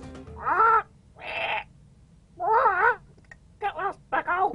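A voice actor imitates a RuneScape parrot with a series of raspy, wavering squawks. The calls come in short bursts separated by quiet gaps, with the last ones quicker and choppier.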